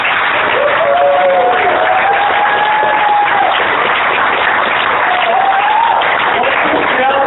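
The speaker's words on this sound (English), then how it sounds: "Give a round of applause." Sustained, dense applause fills the room at the close of a startup talk on bootstrapping versus funding, with voices calling out over the clapping.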